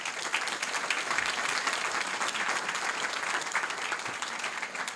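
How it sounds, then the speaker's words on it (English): Audience at a school district board meeting applauding a student, steady sustained clapping from a sizeable room that holds an even level for several seconds with no talk over it. "Please give a round of applause for Anami"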